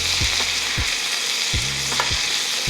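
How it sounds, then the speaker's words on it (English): Salmon sizzling in butter in a tilted skillet, a steady loud frying hiss with several soft scraping strokes of a spoon basting the fish. "Use your spoon and baste that salmon. Give that salmon a little butter bath."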